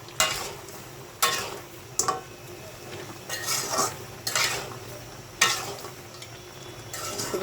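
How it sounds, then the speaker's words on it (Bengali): Someone stirs onions frying in a pan, with sharp utensil clacks against the metal every second or so over a constant sizzle, close by and without speech. "নাড়াচাড়া করে দিলাম পেঁয়াজ দিয়ে"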